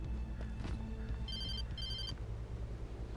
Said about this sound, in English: Oh, the phone call again.